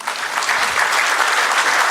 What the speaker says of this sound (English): let us give a round of applause to our esteemed chief guests and guests of